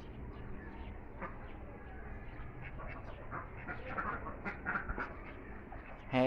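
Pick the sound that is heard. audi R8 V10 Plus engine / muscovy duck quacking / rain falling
muscovy duck quacking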